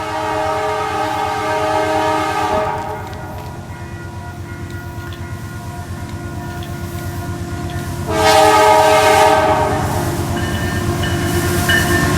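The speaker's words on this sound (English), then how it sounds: "Close behind, CP 8053 leads a westbound manifest." A westbound Canadian Pacific freight manifest led by locomotive CP 8053 rumbles past close by, its horn sounding in long sustained blasts at the start and again near the end over steady rail and wheel noise.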